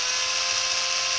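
A 20-volt cordless drill motor runs under load on only a 12-volt supply, giving a steady, continuous high-pitched whir that holds level throughout and stands alone without talk.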